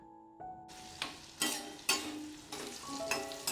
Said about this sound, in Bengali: আলুটাকে খুব ভালো করে কিন্তু একটু ভেজে নেব